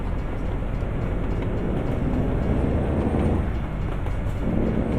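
A train approaching in the American Truck Simulator video game, heard as a steady, loud low rumble of wheels and engine that persists without break, with no talking over it.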